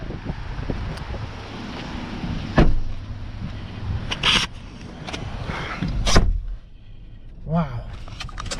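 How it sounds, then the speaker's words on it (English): Trunk lid of a 2020 Nissan Altima 2.5 SR swung shut with a solid thump, preceded by a few lighter clunks and handling knocks against steady outdoor wind noise. "let's shut the trunk"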